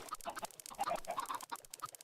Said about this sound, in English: that is quite a lot of chickens